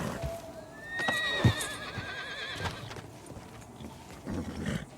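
A horse in Red Dead Redemption 2 lets out a loud, shrill whinny close up, followed by clopping hooves and snorts as it settles.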